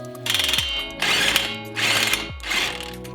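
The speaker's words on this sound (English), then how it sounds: "Now it's time to torque down the bolts to proper spec. First, let's start off with the 19mm camber bolts." A ratchet torques 19mm camber bolts on a BRZ suspension in four loud, close bursts of rapid clicking, each stroke separated by a short pause, with no talking.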